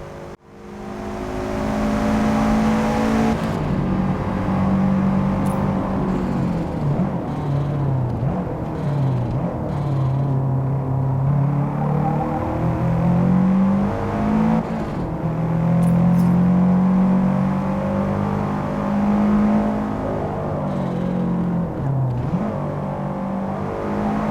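A race car engine in Forza Motorsport, heard from the cockpit, drones loudly and steadily for over twenty seconds, with its pitch rising and falling through gear changes under a constant whir. No one speaks.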